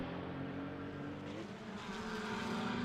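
Race cars roar around a track in a member challenge event, a McLaren among them, their engines a dense, steady, loud drone of overlapping motors that barely rises or falls.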